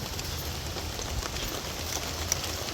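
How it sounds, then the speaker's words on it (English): Rain falls steadily on outdoor surfaces at a bush cooking spot in Jamaica, a constant close hiss with scattered drip taps and no speech. "rain just come down."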